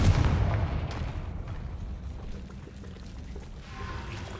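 A fire-blast spell erupts in the Hogwarts Legacy video game, a loud booming burst that rumbles and slowly fades into a low roar.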